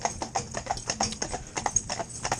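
Hooves of a black cob in harness clip-clop in a steady, close working rhythm, with a second horse alongside, loud and clear with no talk over them.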